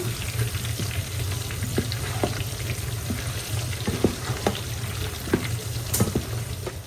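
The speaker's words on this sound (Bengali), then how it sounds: "আলুগুলাও একটু হলুদ লবণ মাখায় পরে এই তেলের ভিতরে ভেজে নিচ্ছি।" Potato pieces coated with turmeric and salt fry in hot oil with a steady, close sizzle and occasional sharp pops and crackles, no voices.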